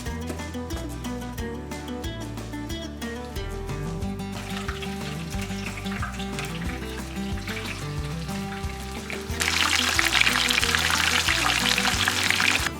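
Breaded pheasant pieces fry in hot oil with a steady, soft sizzle under prominent background music with a pulsing bass line. The crackle swells louder and brighter near the end.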